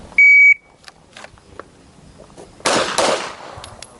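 A shot timer gives a loud, steady electronic beep; after a pause of about two seconds a single pistol shot cracks sharply on a handgun range, followed by a brief echo and faint clicks.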